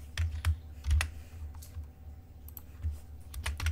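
Code being typed on a computer keyboard during a Python lesson, with quick clusters of keystroke clicks in irregular bursts and short pauses, fairly close and moderately loud, no talking.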